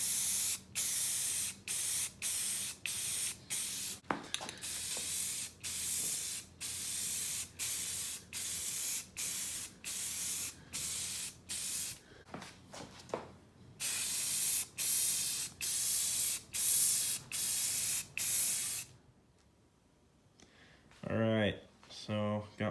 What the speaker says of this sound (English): got my first very thin coat of black on there. Just using this Rust-Oleum satin black